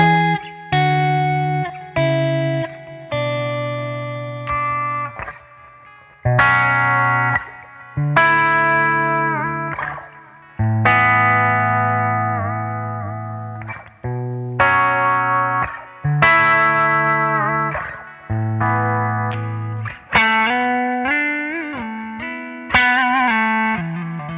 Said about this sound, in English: Dialing in some ping pong sort of stereo spread